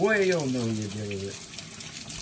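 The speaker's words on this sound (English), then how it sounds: "You run some water over it right here." Tap water runs into a kitchen sink while a Cornish hen is rinsed, a steady hiss under a voice that rises and falls over the first second.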